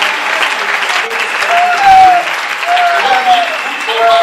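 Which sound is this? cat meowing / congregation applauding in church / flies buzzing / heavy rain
congregation applauding in church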